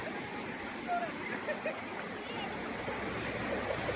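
Floodwater rushes after heavy rain at Nenmara Chathamangalam, where houses lie submerged and the river swells from the opened Pothundy dam, making a steady, dense, continuous roar with no break.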